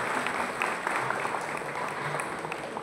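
A crowd applauds steadily at a felicitation ceremony marking a panchayat samiti member's birthday celebration. The dense, even clapping runs unbroken throughout, heard at a moderate distance and fairly soft.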